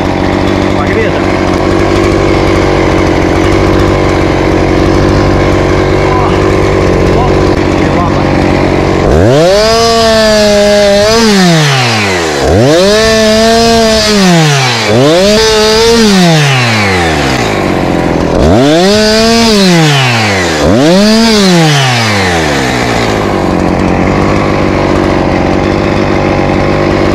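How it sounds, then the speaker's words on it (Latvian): Petrol chainsaw cutting dry firewood while clearing a dam blockage at a bridge, heard in four loud revving bursts that rise and fall, each lasting a few seconds, after a steady engine-like background. "Benzīna zāģis sausā malkā"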